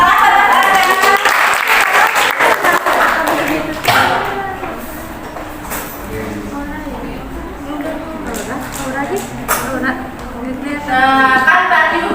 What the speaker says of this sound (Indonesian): Tepuk tangan pada Anda.